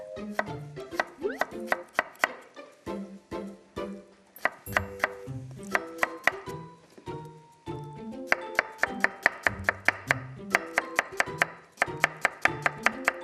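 Close, sharp knife strokes cut cucumbers into rounds on a board, coming in quick bursts with brief pauses between them. No one talks.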